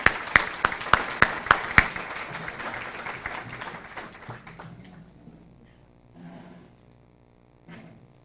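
An audience claps for graphics communication students at a South Central College National Signing Day. It opens with several loud, sharp, evenly spaced individual claps, then a scattered crowd applause that thins out and fades, with faint murmuring near the end.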